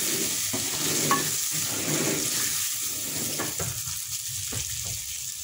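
Fennel seeds being stirred into a frying kachori filling, a soft continuous sizzle with a few light spatula scrapes and taps, moderately close and without speech.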